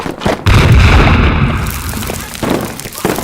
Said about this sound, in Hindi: ग्रेनेड, भागो भागो।